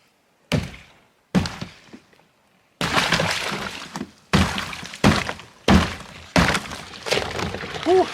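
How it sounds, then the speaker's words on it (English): Ice blocks in an outdoor cold tub being broken: a series of sharp cracking and thudding hits, a couple of isolated strikes followed by a quicker run of loud impacts with splashing in between. "So I'm just breaking the ice in the cold tub."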